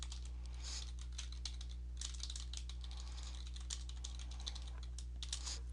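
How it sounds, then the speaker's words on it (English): Steady keystrokes on a computer keyboard while a Word document is set up, clicking in quick irregular bursts over a constant low electrical hum, with no voices. "I'm typing that here now"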